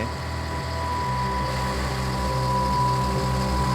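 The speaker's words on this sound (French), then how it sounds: "le bruit du moteur ne cessera jamais" A boat's fuel engine runs without pause on a multi-day sea voyage with pirates, a steady low drone and hum with a faint whine on top, constant and unbroken throughout, with no talk.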